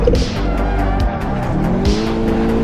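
A Toyota GT86 rally car in Assetto Corsa Rally revs hard, its engine note dropping and climbing between gear changes, with tire squeal layered over a loud, close drivetrain roar.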